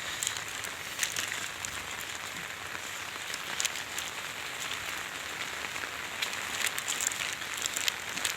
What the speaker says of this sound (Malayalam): നല്ല മഴ മഴയുണ്ട്